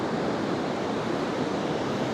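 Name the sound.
ocean waves on a beach shore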